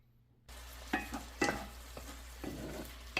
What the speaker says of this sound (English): As soon as this melts, we will saute the onions and green peppers.